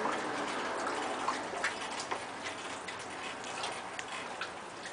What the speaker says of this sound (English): Let me give it a good stir right down to the bottom there.